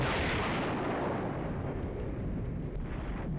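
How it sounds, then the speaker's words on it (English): Soviet artillery fire in the video game Flashpoint Campaigns: Red Storm lands as a deep rumbling blast that rolls on and slowly fades over a few seconds, heard alone. "I love Soviet artillery that misses"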